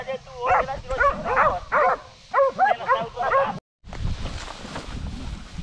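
Several hunting dogs on a wild boar hunt bark and yip in quick bursts outdoors, close by, followed by a rougher stretch of noise with voices and movement.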